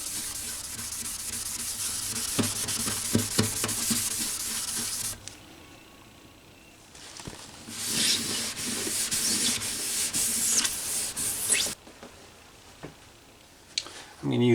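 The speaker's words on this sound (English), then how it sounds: "This is the 30 or the 3000 grit Trizact pad" A 3000 grit Trizact abrasive pad sands a surface in close, steady rubbing bursts that stop and start, with quiet gaps between passes.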